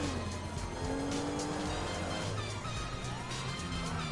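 Racing car engine in a PS4 driving game, a steady droning roar with rising and falling pitch as it accelerates, tires faintly squealing, continuous and close.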